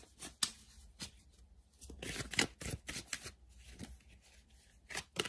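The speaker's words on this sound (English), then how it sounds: "Let's lay out a couple cards from the universe." Tarot cards are shuffled and laid down on a surface in quick, papery flicks and slaps, close and fairly quiet, coming in irregular bursts with brief pauses between.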